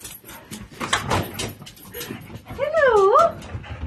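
A dog lets out a close, high whimpering whine that rises and falls near the end, after some shuffling and soft vocal sounds from people nearby.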